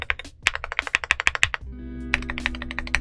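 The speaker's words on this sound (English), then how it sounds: "This one is loaded with white on black ASA keycaps and rosewood switches, so it has definitely a much deeper tone to it" Fingers type on a Monsgeek M1V5 75% mechanical keyboard fitted with rosewood switches and white-on-black ASA keycaps. Quick, close, deep-toned keystrokes come in a rapid run, pause briefly over a low hum, then resume.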